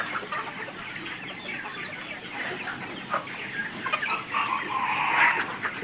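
A flock of 103-day-old white layer hens, fully vaccinated, clucks on a farm in a continuous, fairly quiet chatter of overlapping calls, swelling slightly louder near the end, with no talking.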